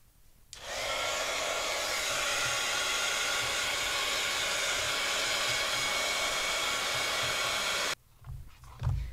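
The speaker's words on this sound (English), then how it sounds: "Get our heat tool out." A craft heat tool blows hot air in a steady, loud broadband whoosh that switches on abruptly and runs for about seven seconds before cutting off, followed by faint handling noise.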